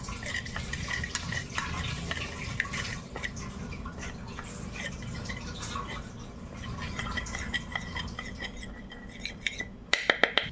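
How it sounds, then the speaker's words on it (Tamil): A spoon stirs a turmeric, milk and honey face pack in a small bowl, giving soft scraping clinks and wet dabbing with a faint watery drip, steady and close, with a few sharper taps near the end. "நல்லா பேஸ்ட் மாதிரி வர அளவுக்கு கொஞ்சம் மில்க் இல்லைனா வாட்டர் ஏதாவது ஊற்றி நல்லா மிக்ஸ் பண்ணிக்கணும்"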